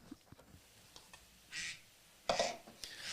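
Duck-shaped kitchen timer in a courtroom sounding its alarm, two short buzzy quacks about a second apart, fairly close, amid faint clicks and room noise, no talk.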